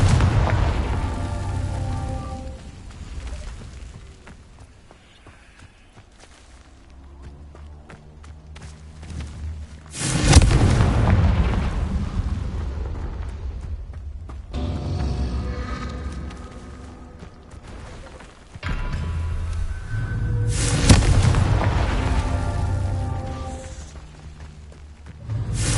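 Confringo blasting spell from the Hogwarts Legacy video game, two heavy booming blasts roughly ten seconds apart, each erupting loudly out of a quieter bed of game music and footsteps, then rumbling off.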